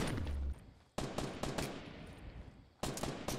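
Gunfire in Fortnite comes in rapid bursts of sharp shots, one burst at the start, then a long sustained volley, and a final burst after a short gap, close and loud with no talking.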